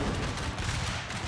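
Three cannons fire a synchronized canister volley in a Franco-Prussian War strategy game, a dense loud rumbling blast that stays heavy and continuous throughout.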